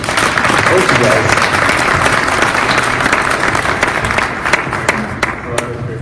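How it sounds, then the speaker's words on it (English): Loud, dense applause from a conference audience at an entrepreneur event fills the scene, steady at first and then thinning into scattered individual claps near the end. "All right, let's give a round of applause."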